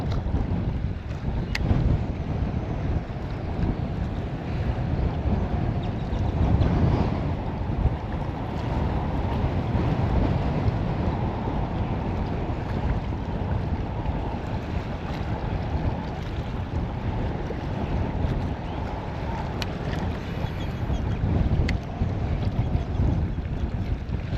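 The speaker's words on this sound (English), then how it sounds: "This wind is hilarious though." Wind blows steadily across a lake during bass fishing from a boat, a constant rumbling roar buffeting the microphone with water and hull noise underneath, with no talk.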